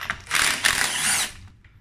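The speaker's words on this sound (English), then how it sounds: "So I'm just using the, uh, the power drill" A power drill whirs in short bursts while undoing a 19 mm wheel bolt on an all-terrain board, a close mechanical grinding spin that starts, holds briefly and stops.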